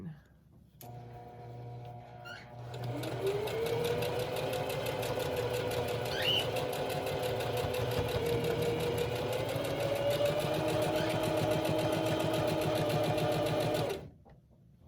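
Sewing machine stitching mask cloth against a pipe cleaner, running continuously and steadily at close range for most of the clip, with a rapid even needle rhythm throughout.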